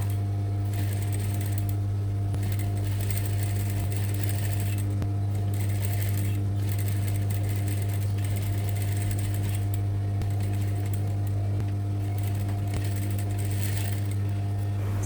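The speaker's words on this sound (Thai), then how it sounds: "เสร็จแล้วให้เราเอาไปเย็บจักเลยค่ะ เย็บให้รอบวงแขนนะคะ" A sewing machine stitches around a shirt armhole, joining the lining to the outer fabric, with a loud, steady motor drone running unbroken from start to finish and no voices.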